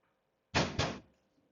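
A classroom door is struck twice in quick succession, two loud, close thuds about a quarter second apart, followed by quiet room tone with no talk.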